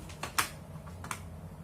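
Several sparse keystrokes click on a computer keyboard, close and fairly faint. A few isolated taps are separated by gaps over a low steady room hum.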